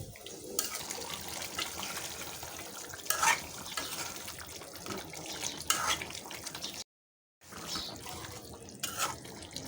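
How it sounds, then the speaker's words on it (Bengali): Water poured into a pot of browned duck meat being cooked down, a steady running splash with stirring clatter and brief spikes, moderately loud and close, with a short silent gap near the end. "মাংসটা সিদ্ধ হওয়ার জন্য দিয়ে দিচ্ছি পানি।"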